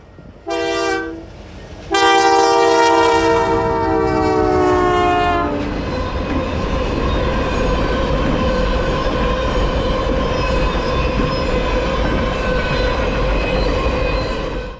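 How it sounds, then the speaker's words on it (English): CP freight train 40B passing close by: two loud horn blasts, a short one then a long one, followed by a steady rumble and rolling clatter of cars that carries on to the end. "After 118 passed, CP train 40B was hot on its tail"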